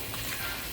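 Garlic sizzling in melted butter in a pan while being stirred, a brief, soft, steady crackle and hiss.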